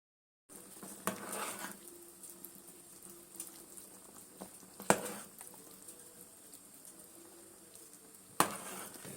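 Water heating in a pot on a home kitchen stove, a soft, faint bubbling and patter with occasional sharper ticks and clinks standing out against the quiet simmer.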